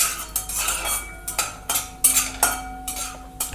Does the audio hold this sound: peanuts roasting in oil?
yes